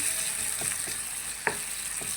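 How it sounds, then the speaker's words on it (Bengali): Onions fry in a pan until browned, a steady close sizzle broken by a few light scrapes as they are stirred. No voices are heard. "এইখানে পেঁয়াজটা লাল করে নিব"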